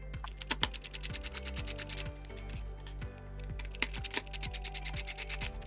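Phillips screws are backed out of the arm pad underlay on a Steelcase Criterion office chair, producing rapid, closely spaced ticking clicks in two bursts, close and fairly quiet.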